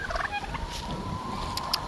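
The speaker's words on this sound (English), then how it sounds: "The chickens are still good." Chickens make faint, short calls in an outdoor farmyard before a winter storm, low in level against a soft background hiss.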